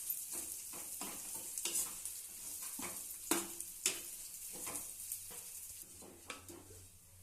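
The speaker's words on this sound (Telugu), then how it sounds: "సేమియా కూడా బ్రౌన్ కలర్ వచ్చేంత వరకు అదే ప్యాన్లో వేయించుకోవాలండి" Vermicelli roasts in leftover ghee in a pan until brown, giving a quiet, continuous sizzle broken by frequent scraping stirs and light clinks of the utensil against the pan.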